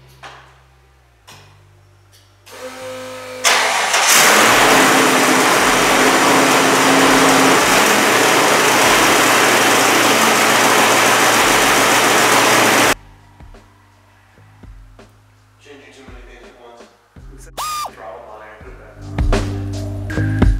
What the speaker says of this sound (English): Idle is very high due to a garbage eBay throttle body.